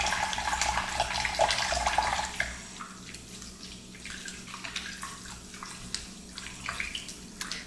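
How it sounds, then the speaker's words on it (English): Running tap water splashes as hands are washed in a kitchen sink, a loud steady flow for about two seconds, then quieter trickling and drips with soft handling sounds. "So again, wash your hands, of course."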